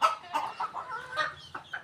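A native chicken clucks in short, repeated bursts close by, with no voices.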